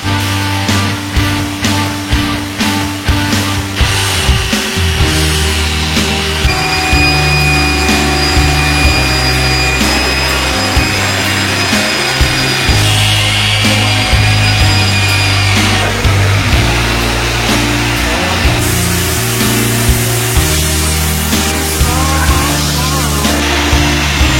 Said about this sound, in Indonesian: ini adalah proses polishing headlamp. Jadi headlampnya juga kita poles agar bening dan juga bagus lagi.